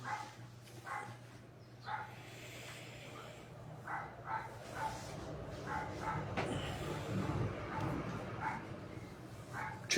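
Small female dog giving a series of short, high yips and barks at irregular intervals, somewhat distant, over a low steady background hum with a faint voice.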